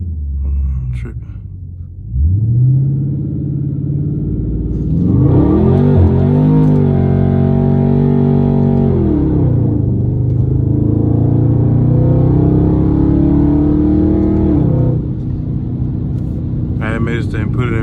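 A Dodge 392 Scat Pack in cold weather is held on the brake, then launches. Its deep V8 rumble rises into a loud, sustained rev, dips, and climbs again, close and dominant throughout.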